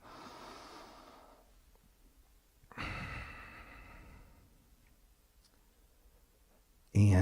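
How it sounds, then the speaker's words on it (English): A slow, deep breath drawn in and released during a guided affirmation, two soft airy breaths with a short sharp click at the end, quiet and close. "So just breathe that in."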